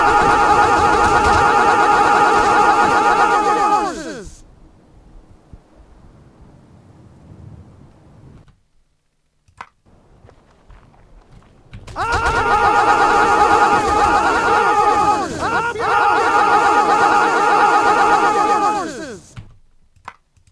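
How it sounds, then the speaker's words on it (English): Horses spawning in Mount & Blade 1866 give loud, harmonic whinnying neighs in two long bursts with a quiet gap between, rising and falling calls overlapping one another. "Horses!"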